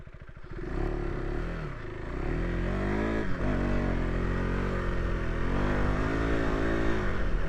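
A budget adventure motorcycle churns through a deep sand wash in a riverbed, its engine loud and close, rising and falling in pitch as the rider works the throttle through the soft sand.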